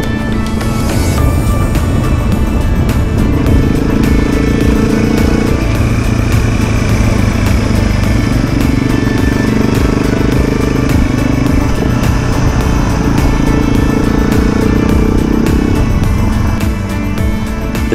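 BMW G450X motorcycle ridden over Mt Tamborine, its single-cylinder engine loud and close throughout, rising and falling in pitch through gear changes with steady wind rush.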